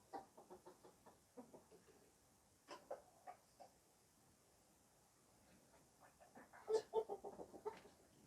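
Chickens cluck softly in short bursts, quiet at first, then a louder flurry of clucks and squawks near the end.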